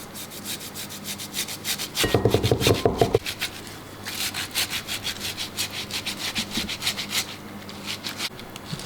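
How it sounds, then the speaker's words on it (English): A tomato grated on a hand grater for spaghetti sauce, rapid rhythmic rasping strokes close up, steady and repeated throughout with a brief denser scrape early on. "I'm going to take my tomato and I'm going to grate it"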